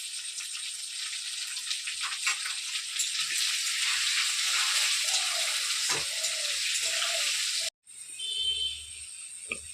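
Potato pieces fry in oil, a bright, steady sizzling hiss with light crackles that runs evenly, cuts off abruptly near the end, then returns fainter with a low clatter.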